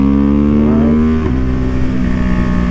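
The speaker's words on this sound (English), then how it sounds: "here we are, third gear, not in super high RPM, but I'll just kind of roll the throttle on." A Husqvarna Vitpilen 401 motorcycle in third gear pulls from modest revs as the throttle rolls on, its engine note loud and close, climbing smoothly in pitch over a couple of seconds with no talking.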